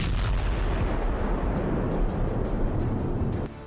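A HIMARS M30A1 rocket explodes during a test, heard as a loud, sustained, noisy roar of blast and debris that fills the whole moment before dropping off near the end.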